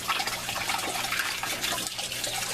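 Water draining out of a homemade aquaponics system, a steady close trickling and splashing wash that runs continuously without a break.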